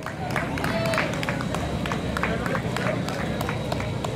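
A crowd at a Stop Bullying 5K race claps for finishing runners, with scattered steady clapping and background chatter under an announcer's voice.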